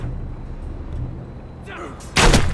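A crossbow bolt fired at a target in the Game of Thrones Telltale video game, a single sharp thump-crack near the end following a low rumbling ambience and a brief rustle.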